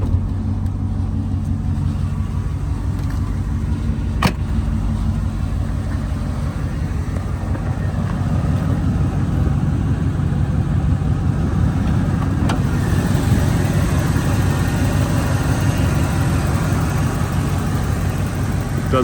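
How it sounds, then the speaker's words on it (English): A cold 1992 Ford F-250 XLT with a 460 big block V8 idles steadily, a loud, smooth, low rumble that stays constant throughout, with a couple of brief clicks. "Super smooth, 460 big block V8."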